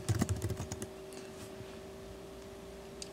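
Quick burst of keystrokes on a computer keyboard while a co-author's last name is entered, clustered in the first second, then a low steady hum with a faint click near the end.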